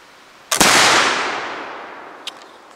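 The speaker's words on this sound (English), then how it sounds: "I'm going to be shooting at the flippers on the bottom row" A coned barrel flintlock rifle fires once with a loud, sharp crack whose echo rolls away and fades slowly, followed by a faint metallic ping from a struck steel flipper target downrange.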